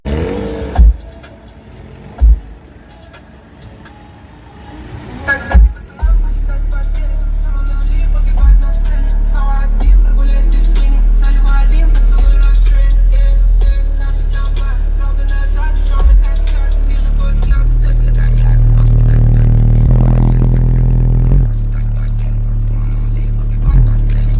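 A few soft thumps come first, then an LBM subwoofer pumps heavy, deep bass inside a car, booming continuously and loudly with rhythmic low pulses for the rest of the stretch.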